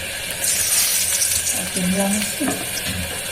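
A dried red chili dropped into hot oil sizzles loudly while a utensil stirs and scrapes the pan in short, close bursts.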